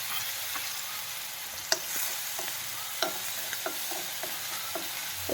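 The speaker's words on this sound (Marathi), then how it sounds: "हिंग घातल्यानंतर आपण हिरवी मिरची टाकू आणि छानपैकी असं परतून घ्यायचं" Green chillies fry with asafoetida in a hot pan under a continuous sizzle, while a spatula taps and scrapes against the metal every second or so.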